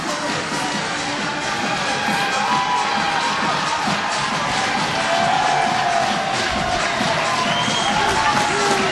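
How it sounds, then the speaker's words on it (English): A raucous crowd at a high school hockey championship game cheers and shouts continuously, with children's yells and echoing rink noise forming a loud, dense roar. "The crowd's really raucous"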